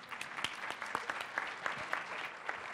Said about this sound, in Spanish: Un aplauso a la moderadora